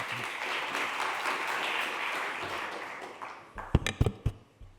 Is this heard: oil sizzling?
no